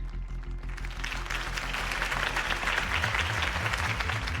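Steady crowd applause and cheering fill a political rally for Harvey Dent in the Batman Telltale game, swelling loud and dense throughout under a low musical score.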